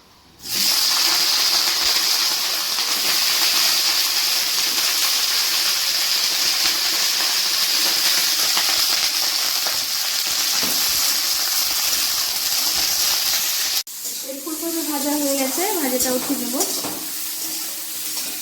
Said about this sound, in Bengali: এখন ওই তেলে ফুলকপিটা ভেজে নেবো